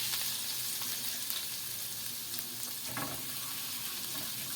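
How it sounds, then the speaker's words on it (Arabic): Tasha for molokhia sizzles in a pan, a continuous loud frying hiss with occasional faint stirring sounds and no talk. "يلا بقى نعمل الطشه بتاعت الملوخيه. سمعه الصوت ده"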